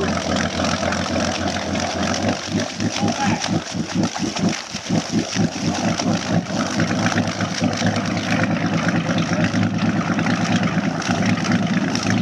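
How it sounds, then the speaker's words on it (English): A boat engine idles on Bayou Teche with a low, steady rumble, briefly chugging in rhythmic pulses before settling back into a continuous drone. "starting that engine, and as you see, Hoodlum is all powered up and ready to go into bayou"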